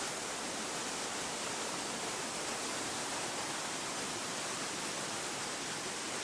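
Continuous roar of a river running beneath a waterfall, full and nearby, holding an even, unbroken wash of water throughout with nobody speaking.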